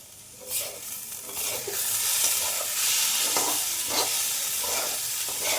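Coriander powder and spices frying in a pan, a steady close sizzle with a few scrapes and stirs of a spoon against the pan, no voices.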